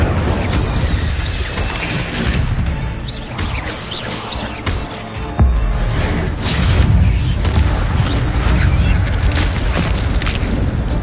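An Incendio fire spell is cast in Hogwarts Legacy amid loud, busy game action, with crackling bursts and a sharp booming impact about halfway through, followed by a sustained roaring wash of noise.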